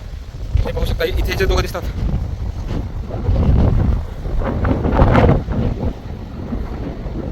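Cold wind buffets the microphone steadily at a seaside fort, a low roaring rush with surf-like swells underneath, while someone talks over it.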